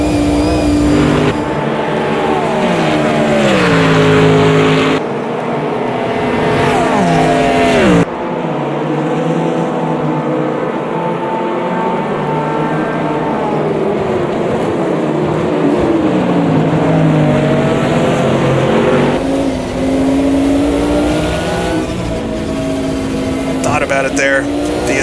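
A GT1 race car engine from the racing game Automobilista 2 at Spa roars loudly and continuously, shifting pitch through gear changes, climbs and throttle lifts across the lap, with someone talking over it.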